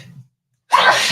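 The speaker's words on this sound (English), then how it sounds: "I'm going to sneeze." A single loud, close sneeze bursts out after a brief quiet pause, with faint low murmuring just before it.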